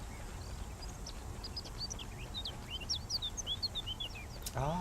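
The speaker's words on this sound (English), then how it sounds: "Ah, the birds always chirp at night." Birds chirp at night in the horror video game Power Drill Massacre, a run of short, high, bright tweets scattered over a steady low ambient hum, fairly faint and unbroken by talk.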